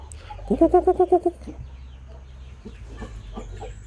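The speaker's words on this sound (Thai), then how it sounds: "ไก่อ่อนๆนะครับ" Young Burmese chickens give a quick run of about seven loud, close clucks early on, followed by softer scattered clucks and chirps over low background hum.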